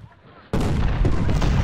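Cannon artillery fire in the Civil War strategy game Ultimate General: Civil War: after a quiet moment, a sudden loud blast opens into a sustained, rumbling barrage of overlapping shots.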